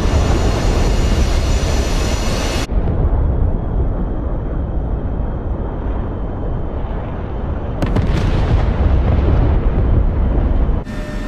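Fireworks bursting aboard an aircraft in the DCS flight simulator, heard as a dense roaring crackle with loud broadband rushing, a sharp drop after about three seconds, then renewed bursts near the end, no talking.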